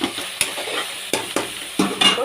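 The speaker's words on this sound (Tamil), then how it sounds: "நல்லா வதங்கிடுச்சுப்பா இஞ்சி பூண்டும்." Ginger garlic paste for chicken biryani sizzles in a pan while a spoon stirs it, giving four or five sharp scraping clacks over a soft, constant frying hiss, close up and with no talking.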